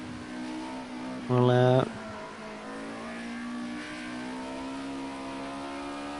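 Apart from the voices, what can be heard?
Mercedes 190E touring race car engine at Oschersleben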